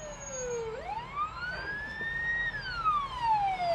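An ambulance siren wails on the Moscow ring road (MKAD), one long tone rising and falling in pitch over steady traffic noise, moderately close.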